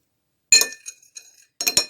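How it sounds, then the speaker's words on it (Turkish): A spoon clinks against a glass bowl while stirring a homemade face mask mixture, giving a sharp tap, a few lighter scrapes and clicks, then a pair of bright clinks close to the mic. "Güzelce karıştırıyorum."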